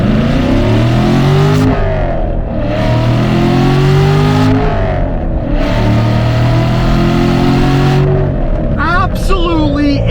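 C7 Corvette Stingray with 455 horsepower accelerating hard, a loud close engine roar climbing in pitch through repeated gear shifts with brief drops between them, ending under a voice talking.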